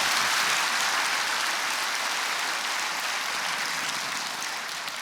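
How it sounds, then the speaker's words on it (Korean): A church congregation claps in encouragement during a sermon, a broad, even patter of applause that fades slightly toward the end, with no voices on top. "우리 그분들 격려의 박수 한번"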